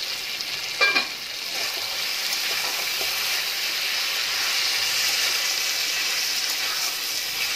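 Chicken frying in a pan, desi-style, gives a steady close sizzle and hiss throughout, with a brief stirring clatter near the start and no talking.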